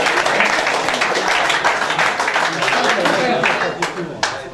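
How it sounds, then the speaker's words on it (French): Applause greets a prize winner at an amateur golf club tournament in Gonesse, a crowd clapping steadily and fairly loud for several seconds, with a voice speaking over it. "on peut l'applaudir."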